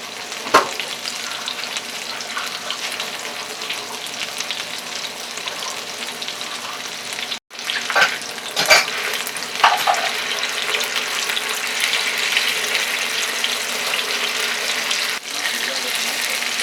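Chicken malai boti pieces fry in a pan, a steady broadband sizzle running throughout with a brief cut near the middle and a few scraping clinks of stirring.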